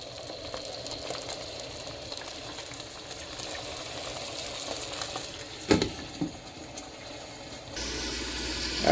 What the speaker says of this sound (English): But you can hear it starting to sizzle.